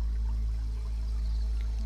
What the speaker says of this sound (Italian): Accanto a te scorre un ruscello di acqua